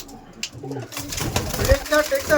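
Andhra pigeons coo in soft, low calls close by, half buried under someone talking, with some rustling and a brief knock.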